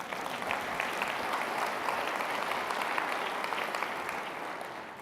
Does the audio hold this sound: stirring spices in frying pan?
no